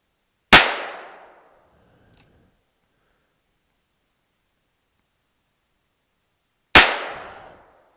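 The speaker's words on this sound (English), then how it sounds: "let's try six shots out of the Chiappa 1873" Two loud, sharp gunshot reports from a Chiappa 1873 revolver, about six seconds apart, each ringing off briefly; nothing else is heard between them.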